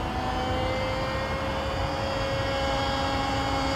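An old airplane flies overhead, giving a steady, fairly loud engine drone with a sustained tonal hum that stays even throughout.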